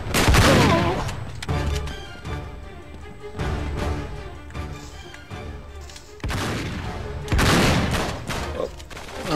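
Heavy shotgun blasts from a sawn-off shotgun in the third-person action game Uncharted 3, booming in several loud bursts separated by short gaps, amid other combat noise.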